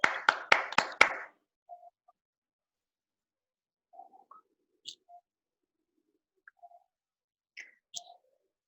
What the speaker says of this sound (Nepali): एकपटक जोरदार तालीले उहाँलाई स्वागत गर्नेछौँ